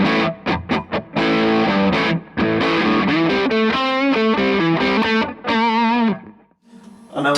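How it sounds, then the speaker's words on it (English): Les Paul electric guitar on its neck pickup through a distorted amp channel playing a loud rock riff of chugged chords and sustained notes, close and unaccompanied, ending with a brief pause and a final hit. "switch over to the dirty channel of the amp and have a listen to some rock tones. And we'll start with the Les Paul,"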